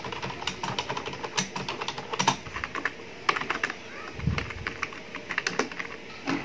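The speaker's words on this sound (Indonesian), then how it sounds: "Kita buat ngetik." Fingers type quickly on a fairly quiet Dell computer keyboard, with soft, close key clicks in uneven bursts and no voices.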